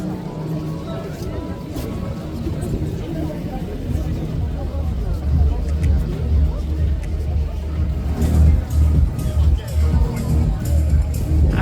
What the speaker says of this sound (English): crowd levels are picking up the further we get towards Old Town